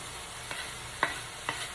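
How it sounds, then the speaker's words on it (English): Steady sizzling of chicken livers frying in a pan for dirty rice, with a few soft stirring scrapes breaking through the constant hiss. "I'm going to dump them back in the pan."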